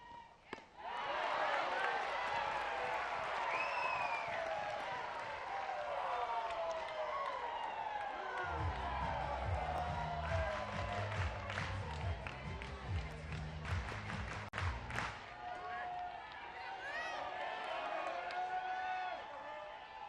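Crowd at a college softball regional game between Arkansas and Oklahoma State rising into cheering, a sustained roar of voices and shouts with a stretch of rhythmic stomping or drumming in the middle, heard beneath a commentator's talk.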